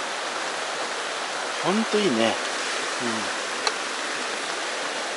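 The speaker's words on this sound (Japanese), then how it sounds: "川の流れる音を聞きながらですね、こうのんびりのんびりするわけですよ" Steady broadband rush of a clear river flowing beside a riverside campsite in the Okutama area of rural Tokyo, close and constant, with a man's brief speech over it and a single small click.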